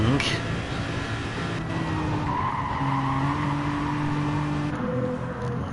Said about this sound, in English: This is the part of the circuit where these Astons really will sing.